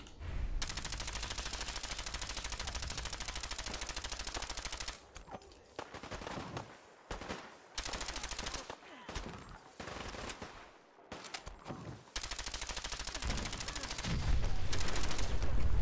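Repeated shotgun blasts from a combat shotgun in Fallout 4 crack out in loud, dense bursts of gunfire, pausing briefly between volleys before resuming hard and fast near the end.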